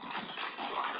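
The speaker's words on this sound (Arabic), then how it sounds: "عاد في كلاب" Dogs whimper and whine in a fire-burned, abandoned apartment building, a continuous muffled, thin whining heard at some distance over a flat background.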